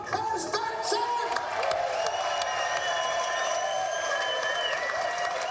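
Large crowd of spectators at the Le Mans 24-hour race, including many Danish fans, cheering and clapping in a steady, continuous roar with occasional whoops, sustained throughout.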